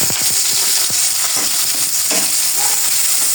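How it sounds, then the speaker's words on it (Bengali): Onions and spices sizzle steadily in a hot pan for a fish bhuna, with scattered scrapes and clinks of a spoon stirring them, a continuous close hiss throughout. "নাড়াচাড়া করে কিছু সময় ভেজে নেব হালকা ব্রাউন কালার আসা পর্যন্ত"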